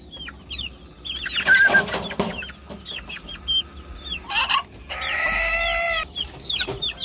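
Several chickens cluck and chatter close by in a farm coop with young birds, overlapping bursts of clucks and squawks with a louder flurry of calls in the middle.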